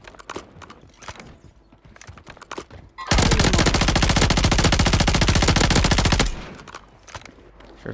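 A Static-HV gun fires in Warzone 3 as a loud, sustained full-auto burst of about three seconds, with quieter game noise before and after.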